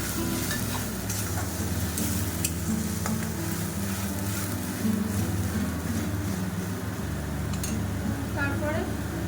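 Ginger garlic paste sizzling in a pan for a chicken curry, a constant frying hiss with scattered scrapes and clinks of a utensil, close and steady, while a person talks over it throughout.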